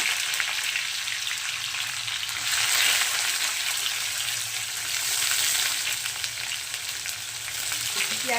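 Two large onions, chopped, fry in hot mustard oil in a wok. A loud, continuous sizzle holds steady throughout, swelling slightly now and then, with no voices over it.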